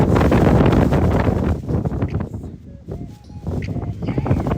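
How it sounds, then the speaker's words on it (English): Gusty wind buffets the microphone with loud rumbling blasts that ease briefly and then pick up again. "It's just literally windy."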